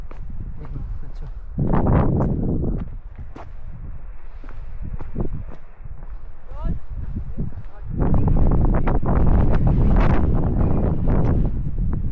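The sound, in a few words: wind blowing on hilltop, paragliding site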